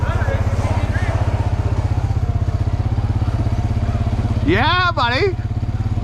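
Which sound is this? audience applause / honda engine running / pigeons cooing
honda engine running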